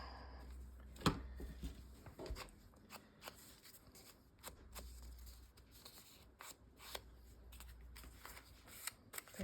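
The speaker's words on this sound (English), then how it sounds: "Trim off a little bit of those" Scissors trim excess paper from a handmade junk journal, making a quiet, close series of irregular crisp snips and rustles that go on for several seconds, with no voice.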